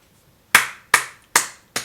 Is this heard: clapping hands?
yes